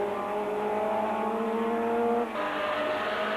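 Group C race cars at the Brands Hatch 1000km, 1987, an engine holding a steady high-pitched drone as it passes, then a sudden drop in pitch near the end as it shifts or backs off, fairly loud, no talk.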